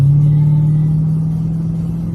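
Chevrolet Corvette C6 with an LS3 V8 holds a steady, loud low engine drone from start to finish, idling or lightly revved with the windows up, no talk.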